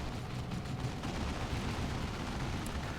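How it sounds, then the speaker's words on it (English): Dense, continuous battle noise of orc and marine troops trading gunfire in a real-time strategy game, a steady rumbling barrage of shots and blasts filling the whole stretch without pause. "A little bit of shooting going on right now."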